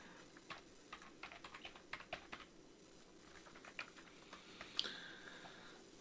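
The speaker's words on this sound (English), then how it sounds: "What was I typing in here?" Quiet, scattered clicks of typing on a computer keyboard, irregular keystrokes spread across several seconds at low level, with no talk over them.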